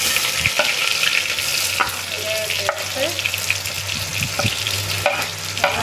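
Onions and mustard seeds fry in a pan, giving a constant close, loud sizzle with occasional clinks and scrapes as they are stirred.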